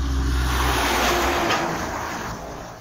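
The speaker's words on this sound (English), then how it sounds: "I'll wait for the truck to go past" A truck drives past close by on a roadside bank, its loud engine rumble and tyre roar swelling and then slowly fading away, with no talk.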